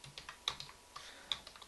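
Computer keyboard keys click as an attribute name is typed into Maya. A short run of light, close taps comes in two small bursts, with no voice.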